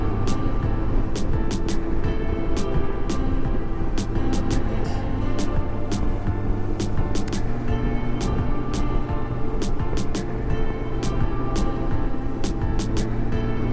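A Honda Goldwing F6B motorcycle cruises along a canyon road, its engine holding a steady drone under constant wind rush, with sharp brief ticks and clicks scattered throughout the ride.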